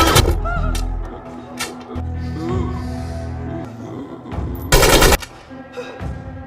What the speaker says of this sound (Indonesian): kemudian ditembak secara membabi buta oleh Tejo.